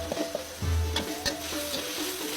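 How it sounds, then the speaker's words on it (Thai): Pork neck stir-fried with Maggi sauce in a Thai made-to-order kitchen, quiet sizzling with a few scraping stirs and clinks of the utensil against the pan. "แล้วก็ผัดให้เข้ากัน"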